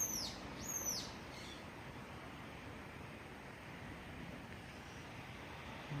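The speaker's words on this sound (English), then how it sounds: "There's a bird out here somewhere." A bird gives two quick, high swooping calls at the start, then only a soft, steady outdoor wash of wind remains.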